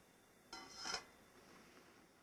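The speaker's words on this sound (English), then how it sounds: "Now we're going to put our lid on, bring it to a boil" A metal lid set onto a pot of lentil soup on the stove, a single soft clink and scrape lasting about half a second, fairly quiet over a low background hiss.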